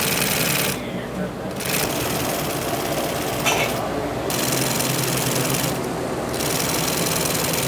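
A sewing machine fitted with a binding attachment runs steadily while edging carpet, a loud, dense mechanical whirring that continues with a few short slackenings throughout.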